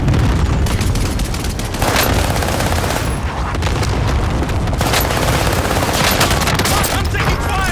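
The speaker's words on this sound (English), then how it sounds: "I'm taking fire." Dense automatic gunfire and bursts of shots rattle through a Call of Duty: Modern Warfare match, continuous and loud, with booms mixed in and players talking over it.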